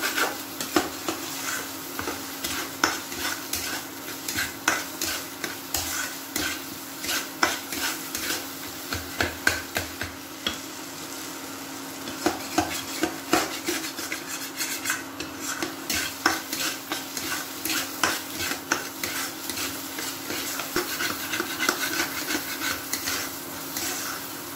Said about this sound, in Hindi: मैं मसाले को फ्राई करूंगी अच्छे से, इसको अच्छे से फ्राई करूंगी।